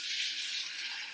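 Cold water runs from a kitchen tap over a boiled egg sitting in a sink, a steady close hiss of flowing water with no talk.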